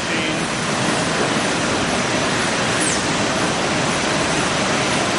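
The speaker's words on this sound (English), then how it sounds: "we have our first of two UV sealer machines, and the first one is actually a filling machine" A UV sealer filling machine on a Cefla finishing line for particle board runs with a loud, steady, broadband whoosh that stays constant from start to end.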